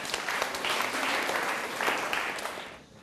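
Students at a National Honor Society leadership training give a round of applause for teammates, a brisk, full clapping that tapers off in the final moments.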